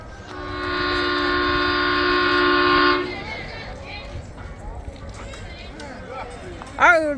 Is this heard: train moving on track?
yes